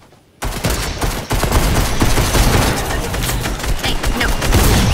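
Sustained Fortnite gunfire erupts abruptly after a brief quiet start, a loud dense fusillade of rapid overlapping shots and bursts with a momentary dip, close and continuous.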